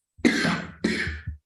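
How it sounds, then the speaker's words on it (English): A man coughs twice in quick succession, close and fairly loud, with a short throaty catch after the second cough and no talking. "I got a cough."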